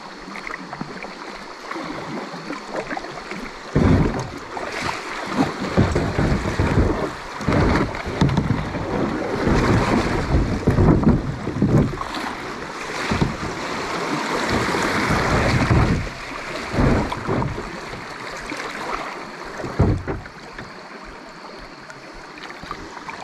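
A kayak runs a whitewater rapid on Big Piney Creek. Rushing, churning water builds to loud, turbulent surges through the middle, with repeated splashing and paddle strokes before it eases toward the end.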